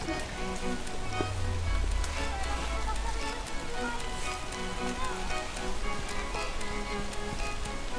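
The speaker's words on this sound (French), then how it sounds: "on est en plein vent, sous la pluie, moins battante, ça y est." Steady rain and gusting wind in an open outdoor spot, a dense continuous hiss of falling drops with a low rumbling buffet from the wind near the start.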